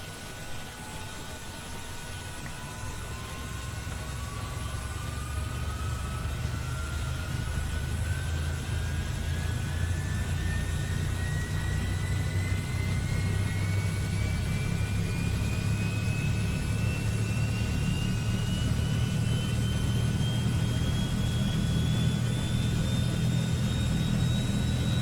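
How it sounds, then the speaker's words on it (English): A simulated Transall C-160 turboprop's right engine spools up in Microsoft Flight Simulator 2020, a rising turbine whine climbing steadily over about twenty-five seconds above a swelling low rumble that settles into a loud, even drone. "Okay, so that's looks like we're getting a good start on the right engine."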